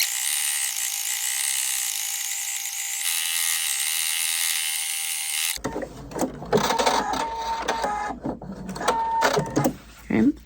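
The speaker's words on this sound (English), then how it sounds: "Back under the sewing machine," A sewing machine stitching through fabric gives a steady, fast mechanical whir for several seconds, then stops and soft handling noises and a voice follow.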